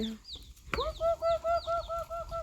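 Chickens on a rural farm where ducks and chickens are raised cluck in a string of close, repeated calls, with one sharp squawk before a steady run of rhythmic clucks.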